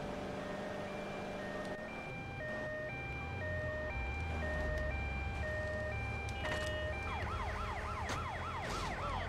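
Ambulance siren in the Grand Theft Auto: Liberty City Stories video game, a steady two-tone wail that switches to a rapid yelp near the end, moderately loud over game engine and traffic noise.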